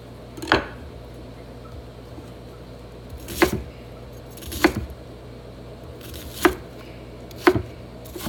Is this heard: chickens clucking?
no